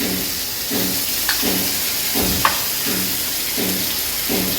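Garlic paste hitting hot oil in a pan for a hilsa and greens dish gives a steady, broad sizzling hiss, with faint rhythmic stirring strokes and a couple of small clinks underneath.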